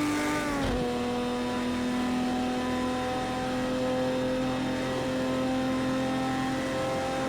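Porsche 917 LH race car in Project Cars 2, Spirit of Le Mans vintage content: a steady, high, harmonic engine drone holds for several seconds after a brief pitch drop near the start, with no talk.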